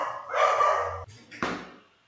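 A pet dog barks indoors during a home online lecture, one drawn-out bark followed by a short sharp second bark, close and fairly loud.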